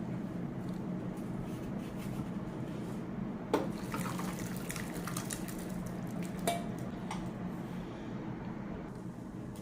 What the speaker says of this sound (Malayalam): പരിപ്പ് കറി ഇത് നമുക്ക് ഇതിലേക്ക് നമ്മുടെ കറിയിലേക്ക് ഒഴിച്ചു കൊടുക്കാം